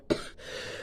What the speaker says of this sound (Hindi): मैं जाने में बीच बीच में बहुत बुरी तरह खांस रही हूँ